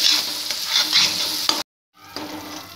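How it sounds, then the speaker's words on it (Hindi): Onions and cashews fry in a pan while being stirred: a loud, close, continuous sizzle with scraping strokes that cuts out briefly to silence and then resumes. "इस तरह हमें इसको चलाते रहना है इस तरह, और इसको हमें ब्राउन होने तक भूनना है"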